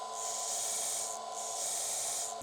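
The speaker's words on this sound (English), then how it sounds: "followed by the belt sander for the ends" Belt sander working the ends of a wooden bookshelf kickplate, giving a close, steady abrasive rasp that eases briefly about halfway through before resuming, with no talking.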